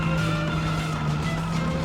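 Simulated car in BeamNG driving with a steady engine hum and tire squeal as it skids, loud and continuous with no pauses.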